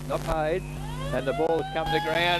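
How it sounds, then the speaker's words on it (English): An end-of-quarter siren sounds at an Australian rules football ground, a long steady tone held throughout beneath a commentator's continuous talk. "30 minutes, that is the siren."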